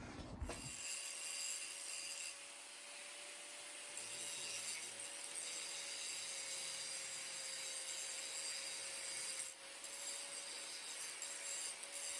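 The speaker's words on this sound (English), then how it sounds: "Just gonna grind it under the letter R there." An angle grinder working a weld on a Volkswagen exhaust flex pipe, a steady high-pitched grinding whine running continuously and fairly loud, with a brief pause near the start and no talking.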